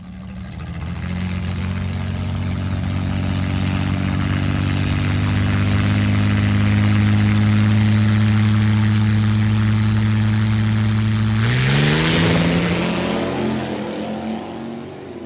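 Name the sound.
slingshot dragster with Ford inline six engine running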